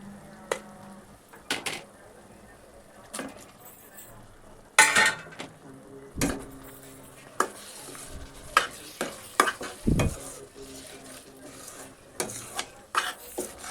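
Prawns frying in an oily masala for a Malvani prawn rice, with a low sizzle under sharp, irregular clanks and scrapes of a spoon stirring in the pot, close by.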